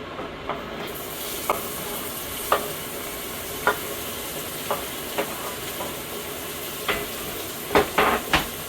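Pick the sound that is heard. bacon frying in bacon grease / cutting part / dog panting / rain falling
bacon frying in bacon grease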